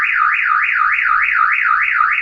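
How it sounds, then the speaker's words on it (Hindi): A loud, piercing electronic siren from a push-triggered security intrusion alarm system wails up and down in a fast, steady cycle, continuous and close. "आपको बस इसे पुश करना है, उसके बाद सायरन चालू हो जाएगा"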